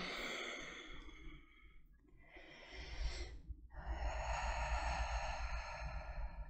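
During a hatha yoga session, a long audible breath is drawn in and then released as a strong airy exhale, close to the mic and fairly loud, with no words spoken.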